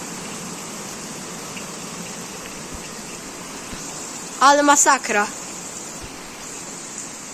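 Heavy rain from a violent thunderstorm over Kunów floods a road, roaring as a steady, close wash of noise; a voice speaks briefly partway through.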